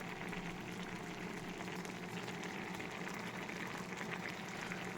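Paneer and capsicum bubble and simmer steadily in a pan for a vegetarian paneer dish made without onion or garlic, giving a constant even boiling and sizzling hiss with no talk over it.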